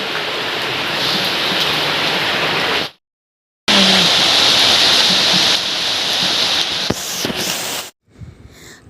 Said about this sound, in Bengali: আমি এখানে সম্পূর্ণটা কিন্তু বৃষ্টি পড়ছে